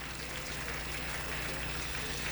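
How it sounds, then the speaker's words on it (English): Audience at a budget consultative forum in Epe Division giving a round of applause, a thick, continuous roar of many hands with a steady low hum beneath. "Please, can you give him a round of applause?"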